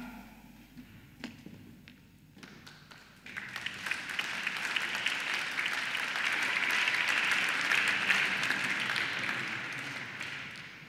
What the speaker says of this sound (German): Vielen Dank für den Applaus.